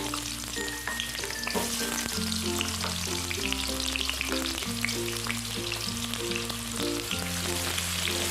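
Shallots frying in hot oil for a Padang-sauce squid dish, a steady, dense sizzle that runs unbroken throughout beneath prominent background music.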